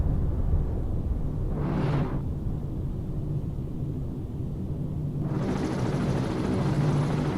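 A helicopter in the submarine video game Cold Waters passes overhead as a broad, steady rotor rumble, swelling twice as it sweeps by, with no talk over it.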